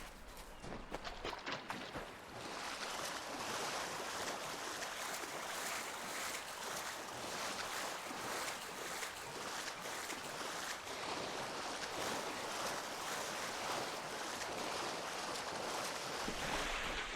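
Swimming through water in the video game Kingdoms of Amalur, a steady, dense wash of splashing and rushing water that runs continuously and fairly loud for the whole stretch, with no talk.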